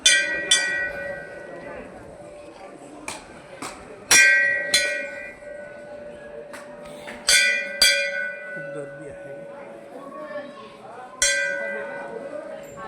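A temple bell at the Kanifnath temple in Madhi rings with bright metallic clangs in irregular clusters, each strike leaving a lingering hum, amid a queuing crowd's background murmur.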